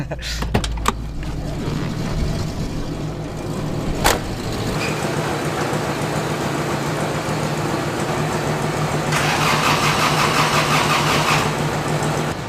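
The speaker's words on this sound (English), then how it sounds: "jump starting a Honda with an AMC" A Honda CRX engine turns over and settles into a steady idle after a jump start from an AMC car, with a sharp click early on and a continuous low hum at close range.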